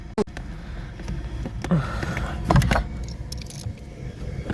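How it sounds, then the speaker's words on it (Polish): A street sweeper brush vehicle passes along a city street, a broad swelling mechanical whoosh and rumble with a few sharp metallic clanks, heard from a short distance. "jeszcze jakaś szczotka kurde jedzie"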